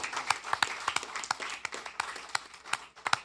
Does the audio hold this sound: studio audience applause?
yes